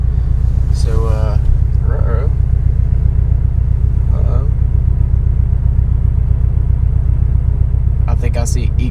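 A twin-turbo V6 EcoBoost Mustang idles in cold weather, a steady low rumble running unbroken throughout, with brief bursts of talk over it near the start and end.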